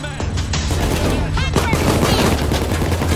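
Dense, rapid automatic gunfire in Payday 2 crackles close and loud in overlapping bursts through a short firefight, with faint talk underneath.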